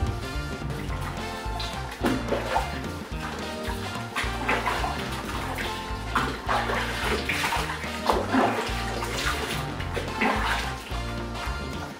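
Golden retriever being bathed in a tub with running water, a continuous splashing gush from a tap or hose, steady and close throughout.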